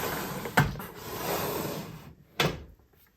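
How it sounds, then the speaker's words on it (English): A makeup drawer slides open with a soft, hollow rumble framed by two sharp knocks, the second louder, close and clear in a quiet room. "Let's now pull one maybe from a different drawer."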